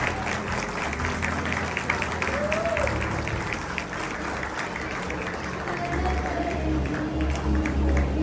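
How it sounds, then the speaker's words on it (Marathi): Crowd at a retirement function clapping loudly to welcome the retiree and his wife, a dense continuous patter of many hands with voices and crowd noise mixed underneath. "आपण सगळ्यांनी जोरदार टाळ्या वाजवून त्या दोघांचं स्वागत करायचंय।"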